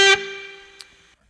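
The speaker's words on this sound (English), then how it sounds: "you can mess between the various algorithms here, distortion, fuzz, etc." Distorted guitar tone from a distortion pedal effect in Ableton Live 11: one loud, buzzy, harmonic-rich note is struck and sustains, slowly fading for about a second before cutting off.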